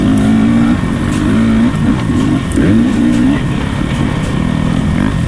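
A Husqvarna dirt bike engine on a hare scramble track at Beaver Ride Park, droning loud and steady with repeated small revs and throttle blips as the rider rolls through a lap, close and continuous throughout.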